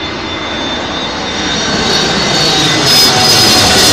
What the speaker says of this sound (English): KLM 777 to the north of me, Jilly.